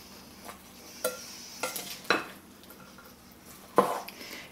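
Corn salad being tossed with dressing, a few separate scraping, clinking stirs of a utensil against a bowl spaced over a few seconds in a quiet room.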